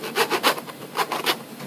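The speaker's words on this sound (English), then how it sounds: "I'm just doing it, sawing it through enough until I can actually break the bones" A knife saws back and forth through the bones of a rack of lamb, giving close, rough rasping strokes in an uneven rhythm of about six pulls.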